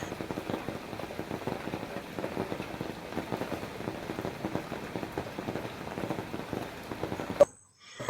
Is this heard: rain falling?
yes